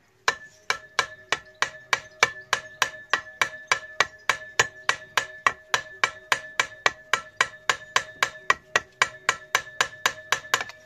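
Gentle hammer taps on a Honda CD175 motorcycle engine, about thirty sharp metallic knocks in an even, steady rhythm, close and clear with no voices.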